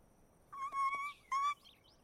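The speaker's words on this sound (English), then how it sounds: "it looks like your birds are back." Birds in the My Little Pony cartoon chirp in two short bursts of bright, close tweets separated by a brief pause, over a quiet background.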